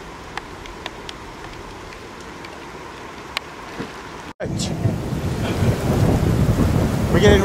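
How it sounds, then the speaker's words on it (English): Heavy rain from a thunderstorm on outdoor trails: a quieter stretch with faint scattered ticks, then a sudden loud, dense downpour that stays steady and close to the end. "I don't know if you can hear the storm."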